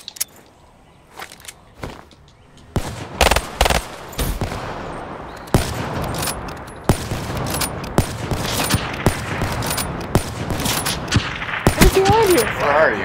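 Rapid gunfire in the video game Black Ops 3, with repeated sharp bursts and single shots that build toward a steady barrage, close and loud, plus occasional footsteps and short talk.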